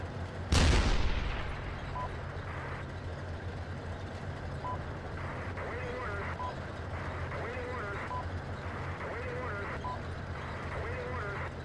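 Tanks rumble across an airfield in the Steel Beasts Pro simulator, a heavy low engine drone steady throughout after an initial loud burst, with intermittent beeps and voices over the top.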